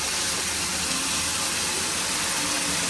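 Mint leaves are washed in water, a close, steady hiss of running water filling the short moment without pause.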